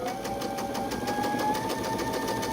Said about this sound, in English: We're going to sew on that marked line, or just like the tiniest bit to the side of it.